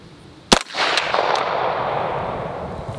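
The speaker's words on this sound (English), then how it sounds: "So will Premier's soft body panels there, or soft body armor panels, save Mr. Hanslide from 115 grain 9mm bullet?" A 9mm gun fires a 115 grain bullet at soft body armor panels, giving one loud, close shot with a crack followed by a rolling echo, and a few fainter impacts after it.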